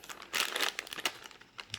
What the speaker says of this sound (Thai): มาแกะกล่องกันเลย แกะถุงนะครับ